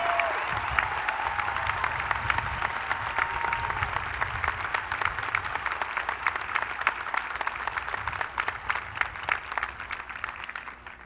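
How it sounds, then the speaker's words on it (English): A commencement audience applauds its new second lieutenants, a broad sustained ovation of many hands clapping at moderate distance, steady for about eleven seconds and thinning slightly toward the end. "let's give them a warm round of applause for our new second lieutenants"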